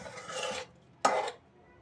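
Chopped onions being stirred in hot oil in a pan for a home-style chicken curry: two brief, close scraping strokes with a pause between, no voices.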